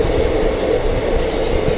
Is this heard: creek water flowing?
no